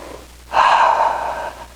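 A single, close breath is drawn in, then released as a smooth, airy exhale lasting about a second, in an otherwise quiet room.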